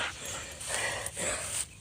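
An energetic, strong dog pants and gives short vocal bursts indoors, with rapid breathy huffs repeating in three loud waves, close to the listener.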